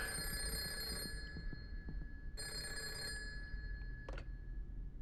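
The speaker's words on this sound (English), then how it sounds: "Oh god, the phone." An old telephone bell rings in the video game Karma: The Dark World, two metallic trilling bursts about a second each, separated by a pause, over a low droning ambience.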